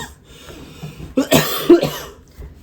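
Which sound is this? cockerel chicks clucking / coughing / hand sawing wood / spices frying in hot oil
coughing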